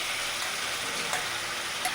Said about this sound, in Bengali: ম্যারিনেট করা চিংড়ি মাছটা দিয়ে দিলাম।